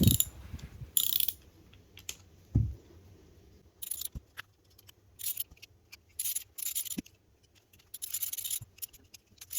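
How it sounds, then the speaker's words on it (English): A socket wrench ratchets while undoing the nuts that hold hedge trimmer blades together: irregular bursts of rapid metallic clicking separated by short pauses and a few dull knocks, close and fairly quiet. "take a socket and some grips of some description or an adjustable spanner and undo all the nuts holding the blades together"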